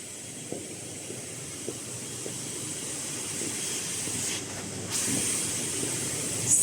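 A KF94 head-mounted mask making machine driven by Hechuan servo motors runs with a steady high-pitched hiss and hum, broken by faint rhythmic mechanical clicks, rising slightly in level near the end.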